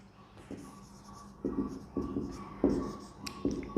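A pen writes out trigonometry working on paper or a board in a quiet room, giving soft scratchy strokes in short, irregular bursts.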